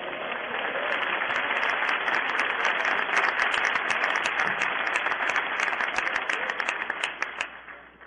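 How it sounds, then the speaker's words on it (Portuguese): A church congregation applauds in a sustained burst of dense clapping that swells, holds steady and then tapers off near the end. "Ao Senhor um aplauso, por favor."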